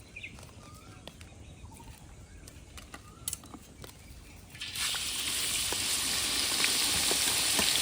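Chopped garlic drops into hot oil in a pan for Schezwan chutney, a quiet start that swells at the midpoint into a loud, steady sizzle and hiss, close and continuous.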